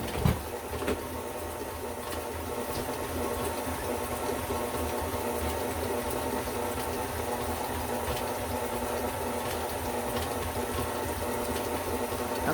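Stand mixer with a paddle attachment stirring a tres leches milk mixture with vanilla, giving a steady, continuous motor whir and churning with no pauses or voices throughout.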